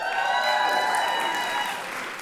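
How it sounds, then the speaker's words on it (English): Audience at an immunization awards ceremony bursts into strong applause mixed with some cheering, loud and sustained, then easing slightly toward the end. "They also have their cheering crowd here."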